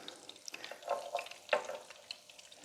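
Cornbread batter pancakes, flat hush-puppy style, shallow-frying in a pan, with soft sizzling crackles and a few brief louder spatters and pops, close and quiet.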